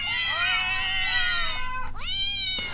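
Synthetic cat meows from a human-to-cat translator app on iOS: two drawn-out, wavering meows, the second rising sharply, clear and close with no talk.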